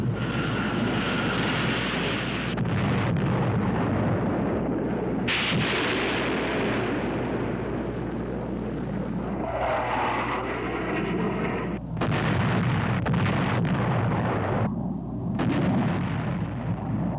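Vietnam War airstrike explosions, heavy booming blasts and rumbling concussions rolling one after another over a continuous roar of aircraft engines, loud throughout with no speech.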